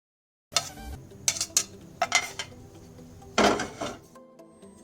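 A spoon clinks and scrapes against a pot of milk with almonds in several short bursts, with a louder clatter near the end.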